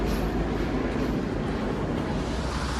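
A loud, steady rumble of a passing train at Lauterbrunnen station in Switzerland fills the whole moment with dense mechanical roar and no voices.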